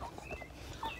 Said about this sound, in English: That's another set of roosters.